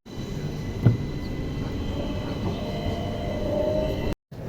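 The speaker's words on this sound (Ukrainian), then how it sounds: "Ми вже їдемо в трамваї." Steady low rumble of a tram in motion in Italy, with a brief clank near the start and a short dropout near the end; no voices.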